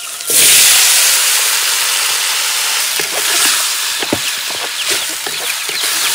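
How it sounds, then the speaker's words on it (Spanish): Seasoned onion dropped into a pot with ají escabeche for a Peruvian potato chupe cooked outdoors, giving a loud, sudden steaming sizzle that stays as a continuous hiss with a few small clicks and pops. "Y ahora sí también echamos nuestra cebolla, que ya está condimentada."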